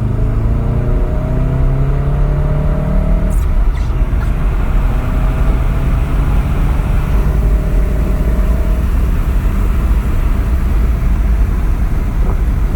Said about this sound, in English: See if the exhaust will make some noise.